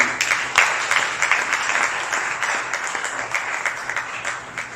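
A church congregation breaks into applause for the word of God, a steady wash of many hands clapping with a sharp start that slowly thins and fades.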